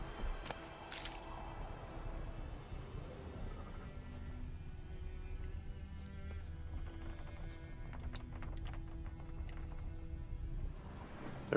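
Horses trot in The Witcher 3, their hooves clopping in a quick, even rhythm at moderate loudness, with a short neigh at the start and faint creaks of tack alongside.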